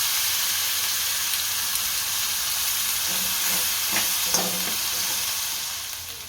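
Green chilies hit hot oil already seasoned with asafoetida while corn curry is cooked at home, giving a loud, steady, continuous sizzle with a few faint clinks of stirring.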